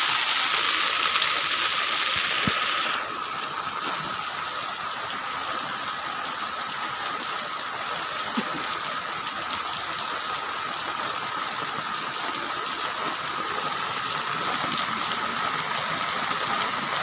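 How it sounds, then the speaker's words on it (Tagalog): Heavy overnight rain pours steadily in Marikina, a dense broadband hiss of downpour and rushing water holding constant for the whole stretch, with a brief higher whine fading out early on. "Magdamag malakas ulan."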